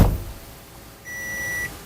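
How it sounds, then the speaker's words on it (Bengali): A Toyota car being started, with a short low thump at first, then a single clear electronic dashboard beep held for about half a second, close and alone. "এখন আমি গাড়িটাকে স্টার্ট করব"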